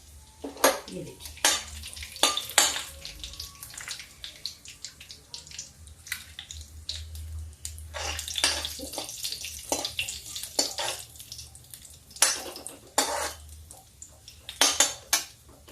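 Cumin seeds and asafoetida hit hot oil for a dal with pumpkin, giving a low sizzle under repeated sharp scrapes and clinks of a metal spoon against the pan, irregular and close.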